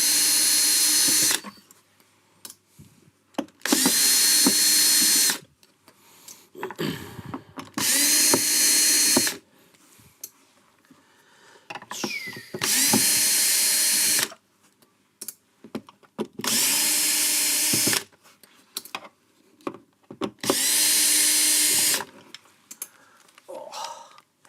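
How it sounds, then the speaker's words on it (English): A lightweight vertical power screwdriver runs in about six loud, steady whirring bursts of a couple of seconds each, separated by quieter pauses filled with handling noises and occasional talk. "Lightweight vertical screwdriver."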